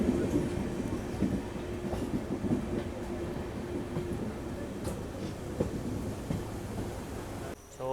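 Poorna Express passenger train rolling from Pune to Goa through hills, a steady loud rumble with clattering wheel beats and occasional clanks heard from inside the coach.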